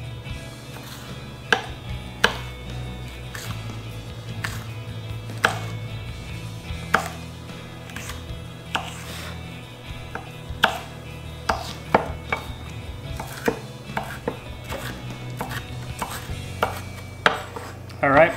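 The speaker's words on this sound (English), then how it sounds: "I'm just gonna cut it up into little strips" A knife chops a tomato into strips on a cutting board, with close, sharp taps in a loose, uneven rhythm over a low background hum and no talking.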